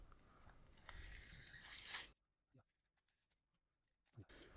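Packaging around a slim Verbatim OTG Tiny 32 GB USB 3.0 drive is cut open, giving about two seconds of close, dense crunching and tearing, followed by near silence broken by a few faint rustles and another brief crinkle at the end.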